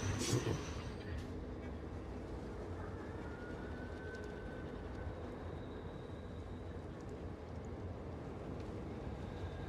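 A train in the video game Satisfactory gives a steady, broad mechanical rumble that runs the whole time at moderate loudness, with a brief sharper burst at the very start.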